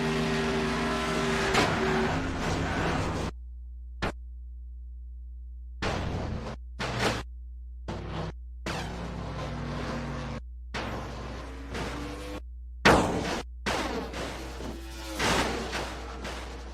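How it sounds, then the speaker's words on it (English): Race car engines roar and whoosh in the NR2003 NASCAR racing video game during a crash entering turn 3, with loud bursts broken by abrupt cut-outs, scraping, and a louder impact partway through. "Pretty severe accident entering turn 3."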